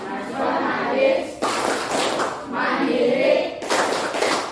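A class claps along to the Tepuk PPK chant in a schoolroom, loud broadband bursts of clapping in rhythmic sections with short pauses between them, voices chanting along.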